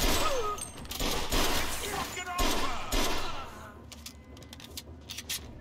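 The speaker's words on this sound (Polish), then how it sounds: "Kto tu tak strzela?" Gunfire in the video game Mafia: several sharp shots crack out in scattered bursts, some close and loud, with lighter clatter and game ambience between them.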